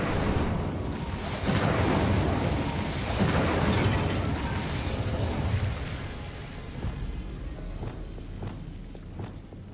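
An Incendio fire spell is cast in Hogwarts Legacy, a sustained roaring, crackling whoosh of flame with deep rumbling bursts, loud and continuous for several seconds before thinning into scattered crackles and taps.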